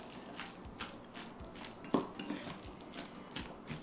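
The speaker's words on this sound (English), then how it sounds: "Then I'm going to add some celery and some red onion. Give it another mix." A utensil mixes celery and red onion into a mayo salad made with McDougall's mayo, producing soft, quiet clinks and scrapes against the dish in an irregular rhythm, close by, with no voices.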